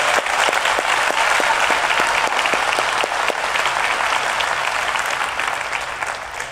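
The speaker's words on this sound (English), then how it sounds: "Let's give Sci-Fi a big round of applause and Deaf Time Kids." A large audience at the DEF CON 20 hacking conference claps steadily, a dense wash of applause that stays loud and tapers slightly near the end, with no voices standing out above it.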